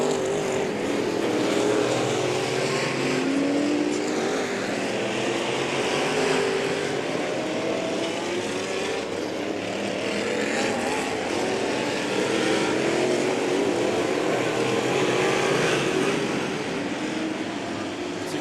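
Race cars howl continuously around an outlaw figure-8 short track during a 300-lap race, several engines overlapping into a loud, sustained roar that swells and fades as cars pass.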